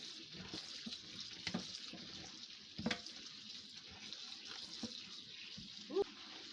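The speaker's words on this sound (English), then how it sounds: "So I'm rinsing it right now in cold water." Cold tap water running over corn in a strainer at a kitchen sink, a steady soft hiss and splash with occasional louder spatters as the kernels are rinsed.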